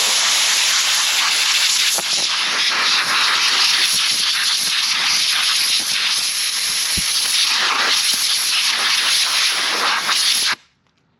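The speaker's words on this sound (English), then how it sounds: "let's blow all the dust out of it and see what it is" Compressed air hisses in one long, loud, steady blast as it blows sanding dust out of a hand-routed wooden Valentine love sign, then cuts off abruptly at the end.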